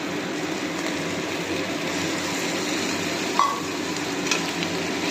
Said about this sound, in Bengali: সেদ্ধ করা লোটে মাছটা দিয়ে ভালো করে নাড়িয়ে নেব